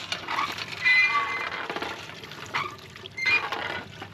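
Water sprays from a hand-pumped pressure sprayer onto boots outdoors, a steady hissing spatter with a few bursts and pauses, close by.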